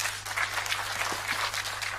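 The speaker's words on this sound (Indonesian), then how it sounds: "Tepuk tangan sama Tuhan Yesus." A church congregation claps steadily, a brief round of applause heard at moderate distance over a low electrical hum.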